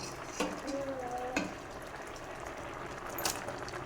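Tomatoes drop into a frying pan of cooked dal, giving a quiet, low sizzle with a couple of brief splashy bursts near the start.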